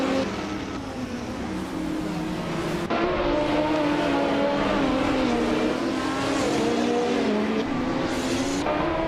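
Racing cars, among them a classic 1979 BMW M1, launch off the line together at Lime Rock Park in a racing game, engines roaring and rising in pitch as they accelerate away in a dense, continuous pack.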